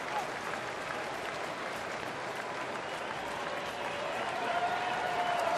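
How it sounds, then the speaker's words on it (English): A packed ballpark crowd applauds and cheers at a Toronto at Detroit baseball game. The clapping and crowd noise form a sustained, dense wash that grows slightly louder near the end. "Crowd getting into it early here"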